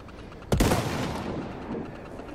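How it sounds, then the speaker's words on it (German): A single gunshot in the Resident Evil 4 Remake video game, a sharp loud crack followed by a rumbling echoing tail that fades over the next two seconds. "Das war jetzt verschwendeter Schuss."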